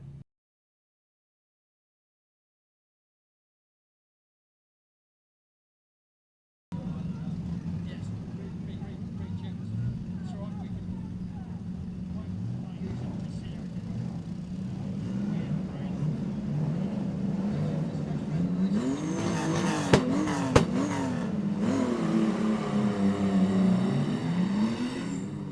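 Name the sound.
stock cars racing on speedway track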